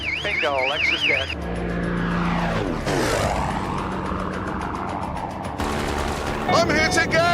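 Machine gun fire from an attacking plane strafing a Lexus car, with bursts of gunfire and roaring engine noise layered over a rising and falling whine, loud and close throughout.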